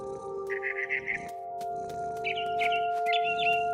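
Birds chirp in short, faint bursts of repeated notes in the game What Remains of Edith Finch, set in a big tree, heard over a steady tonal hum and soft background ambience.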